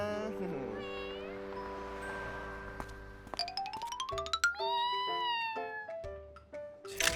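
A cartoon cat meows repeatedly in drawn-out, pitch-sliding cries, close and clear, mixed with chiming musical tones and bright sound effects in an animated kids' show.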